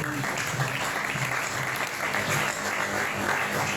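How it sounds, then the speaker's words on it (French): A church congregation applauding and cheering for the Lord during a service, dense sustained clapping from a large crowd, loud and continuous throughout. "Est-ce que tu peux acclamer pour le Seigneur?"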